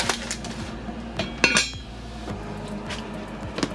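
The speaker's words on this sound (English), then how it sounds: "Okay, that's my Dutch oven." Metal clanks and clinks of a heavy Dutch oven pot being handled in a home kitchen, a few sharp knocks with one louder clatter in the middle, close by and without talk.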